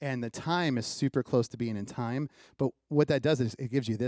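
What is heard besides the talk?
No distinct noise like a dog, phone or traffic.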